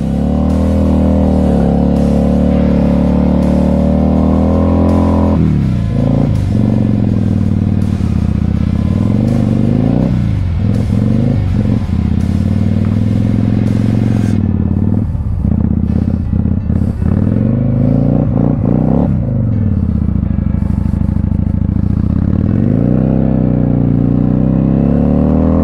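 Kawasaki Vulcan Classic motorcycle engine riding in snow, a loud, close, continuous rumble that rises and falls with throttle changes through the ride.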